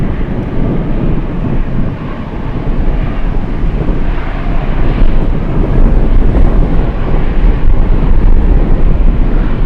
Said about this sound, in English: And we have another 747 on final approach.